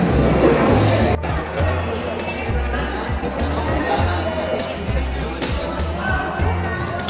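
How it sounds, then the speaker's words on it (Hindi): Steady murmur of a pilgrim crowd at the Mahakaleshwar temple in Ujjain, indoor chatter and footsteps blending into a continuous hubbub with occasional nearer voices. "यहाँ से भीड़ है।"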